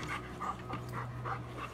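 A red pit bull pants in quick, rhythmic breaths, close and steady for a couple of seconds without any talk.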